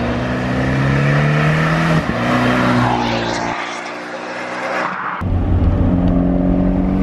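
Abarth 124 Spider with its small 1.4-litre engine, driven through Corsica; a steady, loud engine drone shifts pitch through gear changes and rises again as it pulls, heard continuously without talk.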